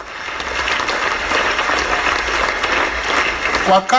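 A church congregation claps heavily during a New Year's Eve service led by a bishop, a dense, loud, sustained roar of applause that ends with a brief tonal voice or instrument near the end.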